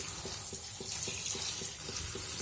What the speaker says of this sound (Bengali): কচু শাকগুলো ধুয়ে নিচ্ছি ভালো করে